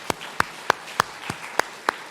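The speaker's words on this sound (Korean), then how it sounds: "우리 여전도회 우리 팀들에게 또 격려 박수 한번" Rhythmic hand claps at a church service, honouring the women's mission group: sharp, evenly spaced slaps about three per second, sounding sparse rather than like a full crowd.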